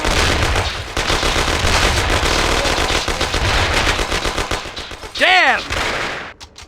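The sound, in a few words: gunfire in the video game Mafia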